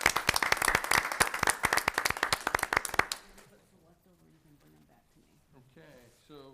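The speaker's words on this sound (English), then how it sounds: "if we could have them stand so we can just give them applause here" Applause for principals standing at an education committee meeting: many hands clap briskly for about three seconds and then stop abruptly as a voice begins speaking.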